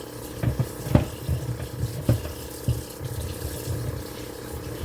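Washing up with hot water at a kitchen sink, running water with irregular clatters and splashes of dishes, close and fairly loud.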